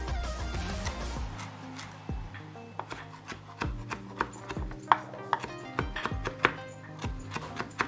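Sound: chopping scotch bonnet peppers finely

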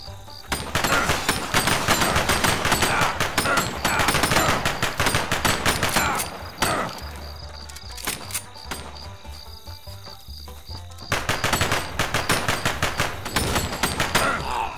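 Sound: gunfire in a video game

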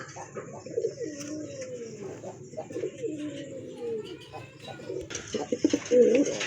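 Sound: pigeons cooing, big-sized pair

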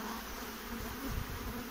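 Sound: honeybees buzzing at hive inspection

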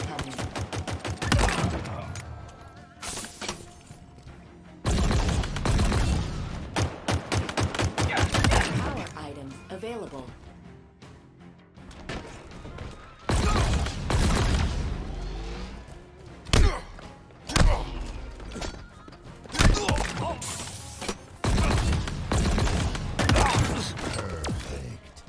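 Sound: weapon firing bursts in Halo Infinite video game

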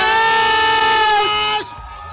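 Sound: concert crowd screaming as the band comes on

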